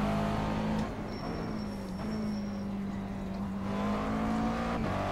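McLaren MP4 12C GT3 race car in the iRacing sim at Road Atlanta, its engine droning steadily at a fairly constant pitch with a slight dip and rise in revs, loud and continuous throughout.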